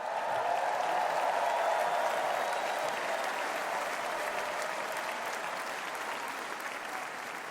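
Large political convention crowd applauding steadily throughout, a dense wash of clapping with faint cheers, loud and sustained with no break.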